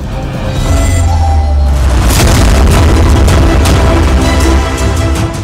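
A loud, sustained roaring explosion blast with a rumbling low end that swells after a quiet start and holds for several seconds before easing.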